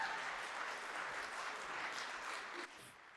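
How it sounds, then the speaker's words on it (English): An audience applauds at a university history lecture, a steady, fairly faint wash of clapping that drops off sharply just before the end. "You applaud for Prince, you applaud for Barack Obama."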